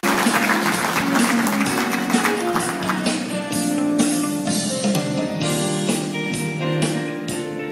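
An audience at the launch ceremony of a cultural foundation applauds steadily and warmly for several seconds, with a tonal musical background underneath the claps.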